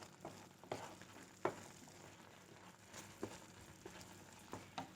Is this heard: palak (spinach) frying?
yes